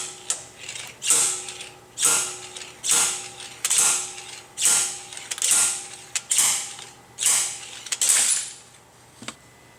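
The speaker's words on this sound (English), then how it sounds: "we've got the clutch pilot bearing removal tool installed in the back of the crankshaft, and we're now going to start pulling out the bearing" A clutch pilot bearing removal tool works a bearing out of the back of a Jeep Wrangler Rubicon crankshaft, close metallic ratcheting and creaking in about nine regular strokes, each rising and easing off.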